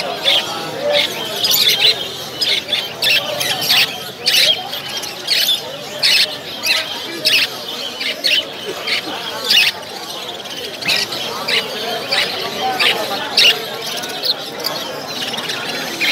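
Java sparrows and other caged birds at Kolkata's Galiff Street pet market, with rapid repeated chirps and squawks over a busy crowd murmur, and people talking nearby throughout.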